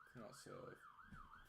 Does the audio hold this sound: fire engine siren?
yes